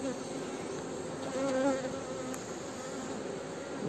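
Honeybees buzz in a steady, dense drone from an open beehive being inspected ahead of wintering, close and continuous with no talking.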